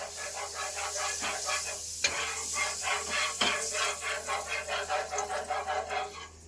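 Pav bhaji frying in a pan with capsicum, stirred with steady rhythmic scraping strokes over a continuous sizzling hiss, with a couple of sharper knocks of the utensil against the pan.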